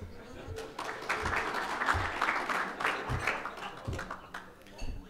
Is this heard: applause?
yes